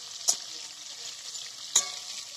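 Fish and prawns fry in hot oil in a pan for Bengali prawn curry, a soft steady sizzle marked by two sharp stirring or turning clicks, close and fairly quiet with no talk.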